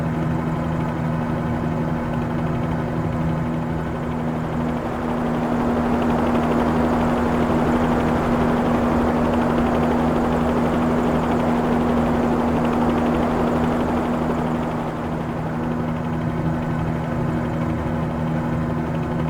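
A Bell 47-G2 helicopter engine in Microsoft Flight Simulator 2020 drones steadily and loudly, a constant steady hum with a strong low tone that swells slightly midway and eases off near the end, with no talk.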